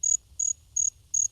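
Columbian trig cricket calling in four short, evenly spaced high-pitched trilled bursts, a smaller species with a higher note than typical field crickets, heard alone and fairly close.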